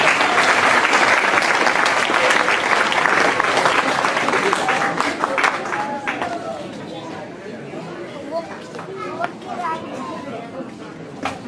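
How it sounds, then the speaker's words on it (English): An awards crowd at the 2014 Olmsted Spirit 5K race in Olmsted Falls applauds the Charter Steel corporate team. Dense clapping fills the first half, then thins out into scattered claps and crowd chatter. "Let's give a round of applause for Charter Steel."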